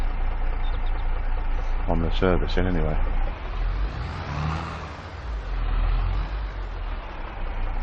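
A freshly serviced tractor engine in the farming simulation game Farming Simulator 22 runs steadily with a loud, low drone that swells as it pulls, while someone talks briefly over it.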